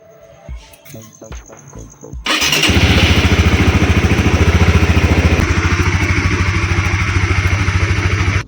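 A 2025 Honda CBR 150 motorcycle cranks and fires up, then settles into a loud, steady, slightly throbbing idle close to the microphone; a person speaks briefly before the engine catches.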